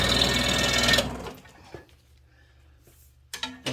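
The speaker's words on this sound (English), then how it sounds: "So I'm going to head over to the scroll saw. We're going to cut 3 inches off this dowel." A scroll saw cuts through a wooden dowel with rapid, buzzing reciprocating strokes for about a second, then stops, followed by a few faint clunks and knocks.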